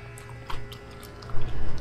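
A neighbour's air conditioner gives a steady low hum throughout, with close chewing and crunching sounds layered on top.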